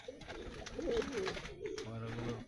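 Giribaz high-flyer pigeons coo close by in a loft, with a brief low sustained coo toward the end alongside some voice.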